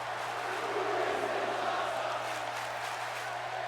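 Crowd cheering at an NXT wrestling match in the WWE 2K16 video game, a dense, steady roar of many voices with a low constant hum beneath it.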